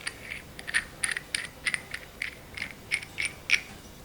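Small brass fret hammer parts clink and tap together in a quick irregular series of bright metallic ticks, close and fairly faint, with no talking.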